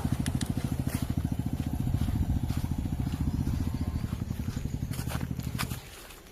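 A motorcycle ridden up to a rooftop camping spot and parked, its engine putting steadily and close by before cutting out just before the end.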